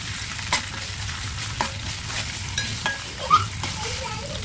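Onions frying in oil with ginger garlic paste give a steady moderate sizzle, with a few soft spoon-stirring scrapes and clicks at intervals and no speech.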